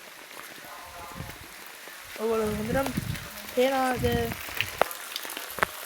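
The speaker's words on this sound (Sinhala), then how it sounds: "වැස්ස හොඳටම වහිනවා" Heavy rain pours onto a flooded home yard as a steady, fairly faint hiss of falling water. A person talks briefly over it in the middle.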